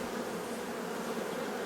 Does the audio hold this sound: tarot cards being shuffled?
no